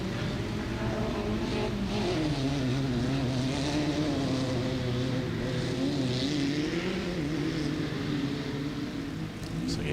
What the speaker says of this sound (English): Looks like a Fox racing car here.